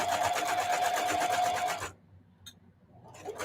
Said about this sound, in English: I'm sewing slowly to make sure that every stitch is exactly where I want it.